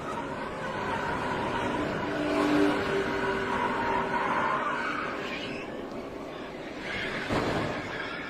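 NASCAR stock cars racing at Talladega during a 2009 crash, a continuous roar of engines and rumbling motion with a louder swell midway and a brief harsh burst near the end, voices faintly underneath.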